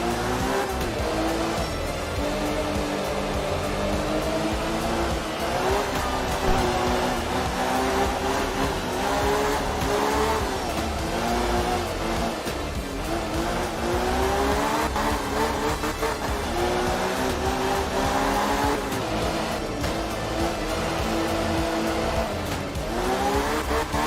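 A rally car engine in the video game art of rally revs hard and continuously, its pitch rising and falling through gear changes with occasional tire squeal, loud and close throughout.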